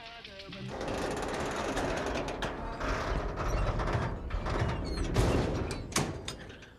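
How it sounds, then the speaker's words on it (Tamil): A main door being locked, with mechanical creaks, clicks and ratcheting metal latch sounds close by over a noisy background, including a few sharper knocks toward the end. "போய் லாக் பண்ணிட்டு வந்துடுறேன்."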